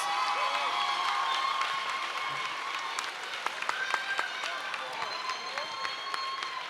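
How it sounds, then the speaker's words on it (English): Audience applause for pageant contestants at a Miss Africa USA show, a steady wash of clapping from a crowd with scattered sharper claps and a faint cheer, held at an even level under some background voices. "let's give all the contestants a round of applause"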